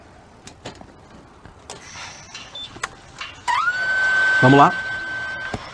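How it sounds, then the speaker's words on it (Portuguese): Electric motorcycle switching on, with a rising electronic whine that settles into a steady high tone and brief clicks, close by, following a man's short spoken phrase. "É uma moto movida a eletricidade, então não tem freio motor."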